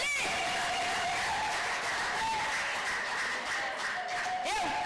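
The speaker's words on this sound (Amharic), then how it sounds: "እስቲ አጨብጭቡ" A congregation at a women's fellowship church conference applauds with soft, steady, distant clapping that carries on throughout.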